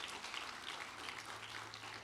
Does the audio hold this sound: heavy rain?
no